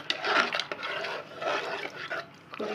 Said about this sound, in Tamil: இப்போ நல்லா மிக்ஸ் பண்ணிக்கலாம்